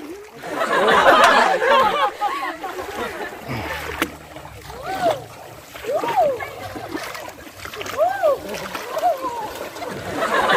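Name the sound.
person swimming and splashing in a river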